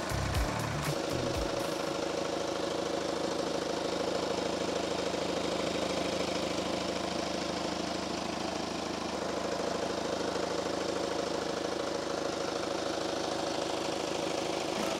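Idling engine of a 2016 Kia Carnival (Sedona), a steady close mechanical drone with a rapid ticking texture, running alone and unbroken after a brief clunk at the start.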